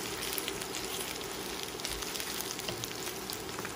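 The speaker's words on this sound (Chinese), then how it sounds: "煎到底部焦黄" Tofu skin pan-frying over medium heat in oil with a little egg, a steady soft sizzle and crackle running evenly throughout with no talking.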